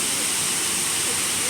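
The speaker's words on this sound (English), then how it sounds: "This is the last waterfall at Dogwood Canyon at the very end of the trail" Waterfall at the very end of a trail at Dogwood Canyon Nature Park, a steady, dense roar of falling water heard close and loud without any break.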